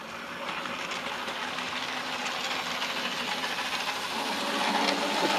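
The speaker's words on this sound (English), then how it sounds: "It pulls this whacking great milk train up the gradient without even thinking about it." A model railway locomotive hauls a long milk train up a gradient on a loft layout. A continuous, close rolling rumble with faint clicking of wheels slowly grows a little louder, with no talk.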